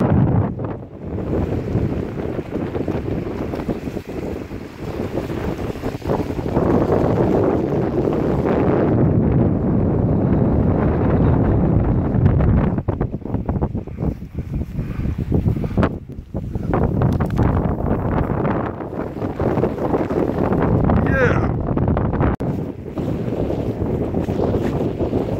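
Strong, steady wind on a Scottish mountain in sunshine, a loud continuous roar of gusts buffeting the microphone, rising and falling without a break and with no talking.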